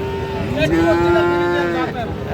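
At a cattle market selling Friesian and crossbred bull calves, a cow lets out one long, loud, nearby moo that rises and holds before trailing off, over a low background murmur.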